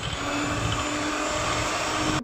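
An electric mixer beats butter and sugar into cream for a vanilla pastry cake, giving a steady, close, whirring motor drone with a faint rattle that runs unbroken for a couple of seconds.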